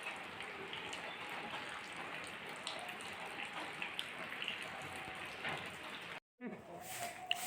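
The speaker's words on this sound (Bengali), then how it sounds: "আজকে তো বাইরে বৃষ্টি হচ্ছে" Steady rain falls outside a home, a continuous even hiss of drops on surfaces that runs throughout, briefly cut to silence near the end before resuming.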